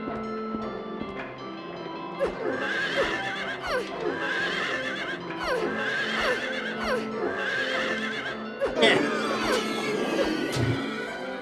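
Horses in Silent Hill 3 let out repeated shrill neighs over galloping hoofbeats, with clattering impacts and a loud crash near the end, fairly close and continuous.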